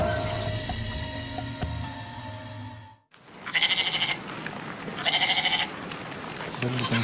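A voice imitates a goat's bleat, giving two wavering, nasal bleats after a brief pause, with chatter and background noise before them.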